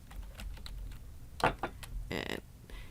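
Computer keyboard typing in embroidery software, a few separate key taps followed by a quick burst of keystrokes, near and moderately loud, with no talking.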